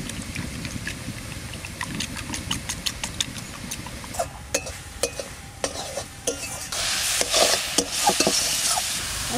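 A spoon stirs a rice-flour paste through greens sizzling in a pan. Sharp, irregular scrapes and clicks sound close over a steady frying hiss that grows louder near the end.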